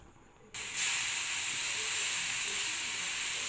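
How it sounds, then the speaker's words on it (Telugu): Ridge gourd peel hits a hot non-stick pan and bursts into a loud, continuous sizzle after a quiet moment, the hiss holding steady and close. "దీంట్లో బీరకాయ పొట్టు అనేది మనము కొంచెం పచ్చివాసన పోయేంత వరకు వేయించుకోవాలి"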